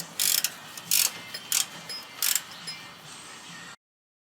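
A ratchet tightens rear wheel bearing parts on a Chevy Astro/GMC Safari van, producing several quick bursts of sharp clicking separated by short pauses, close and clear, then quiet.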